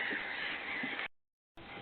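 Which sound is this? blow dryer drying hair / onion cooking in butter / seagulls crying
seagulls crying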